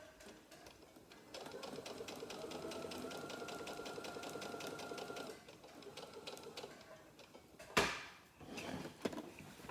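A pedal-driven sewing machine stitches a fleece panel blanket with a steady, rapid mechanical whir that runs for several seconds, pauses, and resumes, followed by a couple of louder clunks and handling noises nearby.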